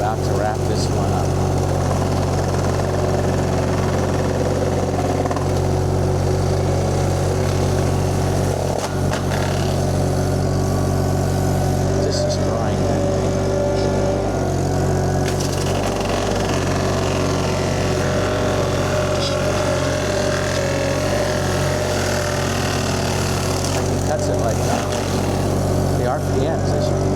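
A tractor engine drives a VMENG 25HP mulcher, a loud, constant low drone holding steady revs throughout, with a voice talking over the machinery.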